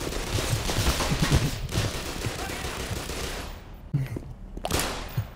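Rapid SMG fire rattles in Black Mesa co-op play, loud sustained bursts of automatic shots mixed with other weapon fire and combat noise.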